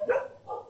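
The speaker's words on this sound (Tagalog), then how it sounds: "Ang daming aso, nagtatahulan." Several dogs bark in a short, close burst of two yips, fairly loud with no talk over them, near a barbecue corner.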